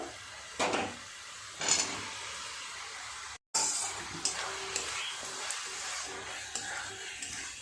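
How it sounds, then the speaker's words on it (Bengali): Fried potatoes being stirred into spice masala in a pan while making chana paneer: faint, steady sizzle with a few louder scraping strokes, a brief dropout, then continued low frying hiss and occasional clinks. "খুব ভালোভাবে মশলাটা কষিয়ে নিয়েছি দিয়ে দেবো ভেজে রাখা আলুগুলো"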